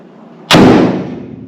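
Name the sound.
car door shutting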